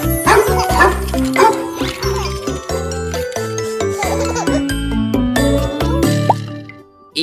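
A cartoon-style dog barks several times in quick succession over a bright, bouncy children's alphabet song with jingling chimes, the barks loud and close in the mix.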